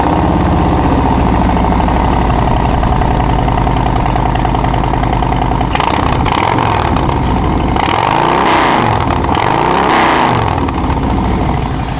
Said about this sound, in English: we have the Tab Performance exhaust. It's going to have some good rumble on it